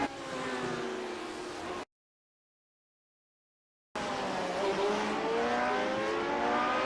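Classic Lotus Grand Prix race cars lap Barber Motorsports Park in iRacing, engines whining and revving through gear changes in two bursts separated by a gap of dead silence.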